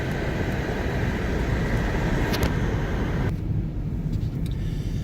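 A car drives along a road near a salt mine outside Mount Morris, giving a constant close rumble of engine and tyre noise with brief higher clicks, and no one speaks over it.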